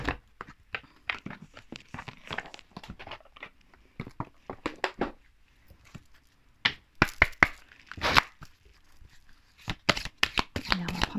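Oracle cards being shuffled by hand, a rapid series of crisp riffles and slaps in irregular bursts, close up, with quiet gaps between rounds of shuffling.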